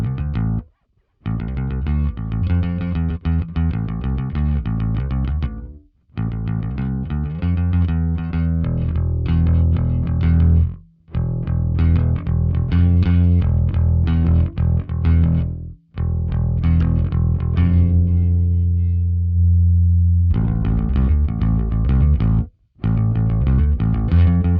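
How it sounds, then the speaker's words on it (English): Distorted, overdriven bass notes through an Ampeg SVT-VR Classic amp simulation with input gain driven up, played in growling phrases with short silent breaks between runs. "Let's drive it a bit more, see how much distortion we can get."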